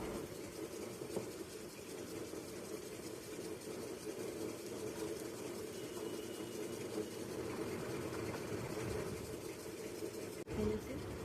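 A wet grinder churns cream into butter with ice-cold water added. It gives a continuous mid-pitched motor hum and a churning rumble, fairly close and steady throughout.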